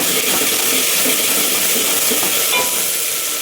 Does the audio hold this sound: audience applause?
no